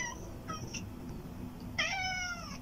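A cat meows a few times, short calls early on, then a louder, drawn-out meow near the end, over a low background hum.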